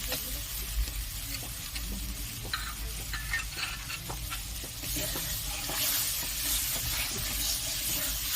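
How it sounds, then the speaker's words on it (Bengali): Spice paste for Bengali shukto is stir-fried in oil. A continuous sizzle runs throughout, with repeated close scraping strokes of the spoon against the pan. The frying grows brighter and hissier toward the end. "এটা আমি ভালো করে কষে নেব।"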